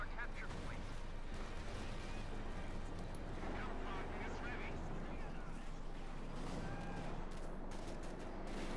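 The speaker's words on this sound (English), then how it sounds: "an artillery strike called in the north, hitting some of Luciano's northern positions" Artillery strike in Company of Heroes 2 landing on northern positions: a dense rumble of distant booms and gunfire, steady and busy throughout, with voices talking over it.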